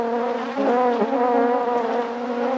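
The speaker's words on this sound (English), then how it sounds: "I'm going to have to start taking honey off some of these hives." Honeybees buzzing around beehives topped with honey supers, a loud close steady drone with wavering pitch as individual bees pass near, no voices.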